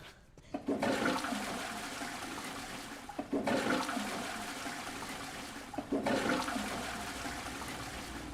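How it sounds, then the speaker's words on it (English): A toilet in Resident Evil Requiem flushes three times in a row, each a loud rushing gush of water that runs for a couple of seconds before the next begins. "So we're gonna go flush the toilet 8 times."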